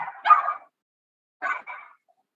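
Dogs barking nearby, a couple of short yapping barks, then a brief pair of yips after a quiet gap, loud and alone.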